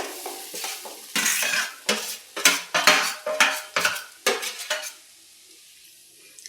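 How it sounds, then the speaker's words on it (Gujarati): Broken wheat lapsi roasting in ghee in a pan over low heat is stirred with a spoon, giving about a dozen rhythmic scraping and clinking strokes close up, then a few quiet seconds at the end. "આપણે ધીમા ગેસે ઘીમાં શેકી લેવું લાપસીને."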